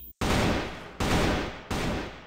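Gunfire in the video game CrossFire comes in three rapid automatic bursts, loud and close, each separated by a brief silent gap.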